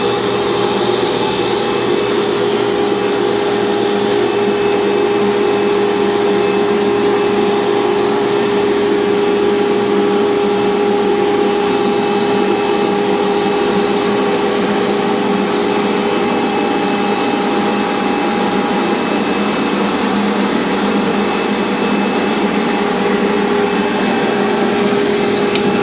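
A banner heat welder hems a banner with its nip wheel raised into position, producing a loud, steady blower drone that holds unchanged throughout.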